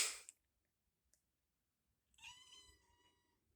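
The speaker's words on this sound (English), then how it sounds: "Like I can make him meow whenever I sneeze." A short sneeze-like burst comes first, followed by a faint click, then a cat lets out one clear meow in reaction, close and alone in a quiet room.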